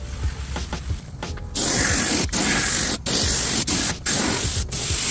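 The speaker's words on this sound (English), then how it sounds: "I wanted to see what happens if I just spray clear over what was already there." Aerosol can of clear coat sprayed onto a car headlight, a loud hissing spray in several long bursts with brief pauses between them, following a quieter stretch of handling noise.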